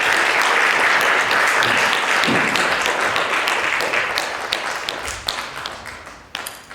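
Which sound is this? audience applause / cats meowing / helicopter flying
audience applause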